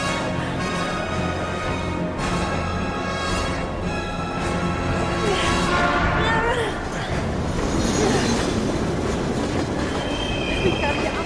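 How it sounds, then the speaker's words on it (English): A train in the video game Heavy Rain roars past up close, with loud continuous rumble, clattering wheels and squealing metal, and speech mixed beneath the din. "We've got to get on that train, Ethan."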